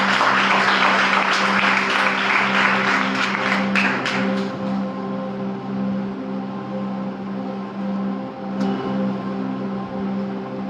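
Congregation clapping at a Good Friday church service as a speaker is called forward, a dense round of applause that dies away after about four seconds, leaving a steady hum and one sharp tap later.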